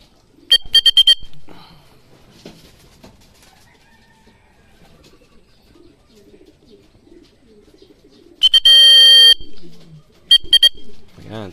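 Racing pigeon, a brown bird, arriving home at a loft after a 105 km training flight, with short bursts of bright cooing and fluttering at the start and again near the end, under quiet outdoor background.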